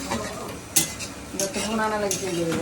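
Onions stirred and frying in a wok for biryani give a steady sizzle, with sharp metallic scrapes and clinks of a spoon against the pan at intervals; a faint voice is heard in the background.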